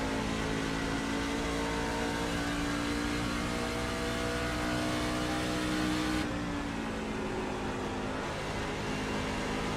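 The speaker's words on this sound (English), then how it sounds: "Brandon Smith bringing that baby down the pit road" NASCAR Truck Series race truck at Rockingham rolling down pit road, a sustained droning engine hum with steady harmonic tones, loud and continuous, with a slight shift in pitch near the end.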